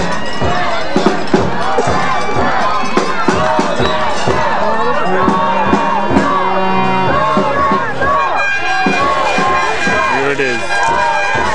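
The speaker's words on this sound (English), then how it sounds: "their fans are cheering them on hard and making as much noise as they can" Fans in the stands roar and shout at a VMFL championship football game between South Delta and the Coquitlam Raiders in the fourth quarter. It's a loud, dense, continuous crowd din with overlapping voices and cheers throughout.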